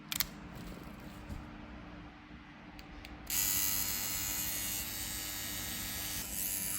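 A BRONC TOUGH wireless adjustable-stroke tattoo pen fitted with a 9 round liner needle runs with a steady high buzz, quiet at first and then louder and brighter as it revs up, continuing alone without talk.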